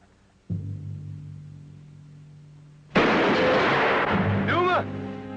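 Shotgun gunfire in a western TV drama: a heavy boom is followed by a sustained rumble, then a second, louder blast with a long crackling tail, and a voice speaks briefly near the end.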